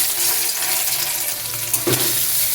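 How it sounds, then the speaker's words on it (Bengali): Paneer pieces fry in hot oil, a dense, continuous sizzle close by with a brief stir or clink near the end and no talking. "পনিরটা লাল করে ভেজে তুলে নিচ্ছি।"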